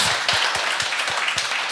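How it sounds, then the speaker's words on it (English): Tech conference audience giving a speaker a warm round of applause, a steady, moderately loud patter of many hands clapping at once with no talk over it. "give him a warm hand of applause, please"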